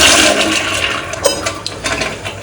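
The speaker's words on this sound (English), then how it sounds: "I will go ahead and flush the toilet" A hotel toilet at a Staybridge Suites flushes loudly, a steady rushing swirl of water that fills the whole clip, close and continuous with small gurgles near the end.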